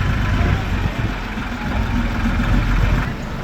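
A tractor engine rumbles steadily inside a 12th-century church while the floor is renovated, with low, continuous chugging and muffled echoing background noise.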